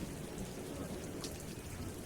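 Steady heavy storm rain pours down as a constant dense hiss, with a low rumble of thunder rolling underneath throughout.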